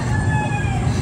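Roosters crowing on a quiet morning in the Philippine countryside, a drawn-out crow carrying over steady background noise for about a second.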